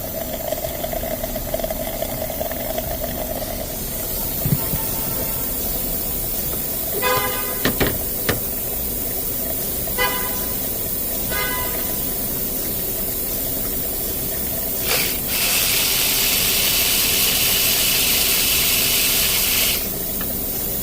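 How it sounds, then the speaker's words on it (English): A car's cooling system with a P0128 fault draws in air, giving a faint hiss with soft sucking gurgles and a few short squeaks, then a louder sustained hiss near the end; no one speaks. "And you can hear it sucking."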